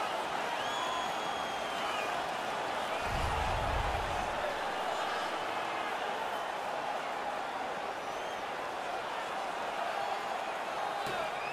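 Home crowd in an NHL 16 hockey arena video game, a continuous roar of cheering and noise with a brief low thud partway through, steady beneath commentary.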